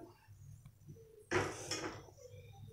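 A metal kadai is set down on a home kitchen stove, giving one clattering clank of cookware that rings briefly before fading.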